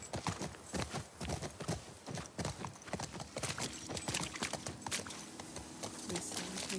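Horse hooves clip-clop at a steady walking rhythm in The Last of Us Part II, close and prominent, with a brief neigh in the mix and no talk over them.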